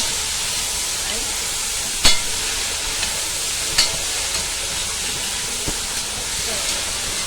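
Vegetable stems cook in a pot for dhal, rice and bhaji, heard as a steady broadband sizzle and simmer with a few sharp clinks of a spoon or lid at intervals.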